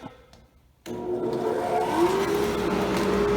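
A new workshop dust collector's big motor switches on abruptly after a quiet moment, then a loud steady whirring roar with a rising whine as it spins up to speed, close by.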